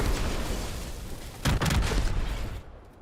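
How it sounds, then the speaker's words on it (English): A gas pump or fuel tank blowing up after being shot in Fortnite, a loud burst with a brief rumbling tail over steady game background noise. "If you shoot a gas pump or a fuel tank, they'll blow up."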